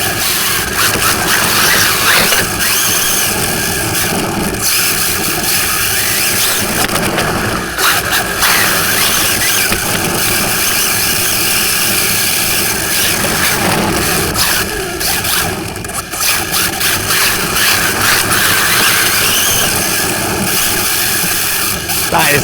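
A Rlaarlo AK-787 RC car fitted with dual motors and dual ESCs whines and buzzes loudly and continuously, its motor pitch rising and falling as it accelerates, with scraping and crunching from the surface.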